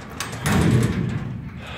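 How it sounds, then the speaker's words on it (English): An upright storage cabinet door swings shut and its magnet catch takes hold with a soft thud, close and moderately loud in a garage setting. "The left door has magnet catches, so you close it and the magnet's on there and stays closed."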